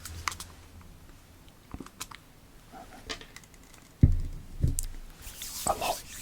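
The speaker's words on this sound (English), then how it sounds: "This bottle makes quite nice sounds actually" Close, crisp crinkling and tapping of a plastic bottle being handled, quiet at first and then louder crackles near the end.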